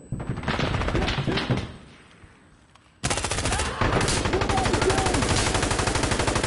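Gunfire in Insurgency: Sandstorm, loud bursts of rapid shots crackling through the opening stretch, a brief lull, then sustained heavy automatic fire from about three seconds to the end.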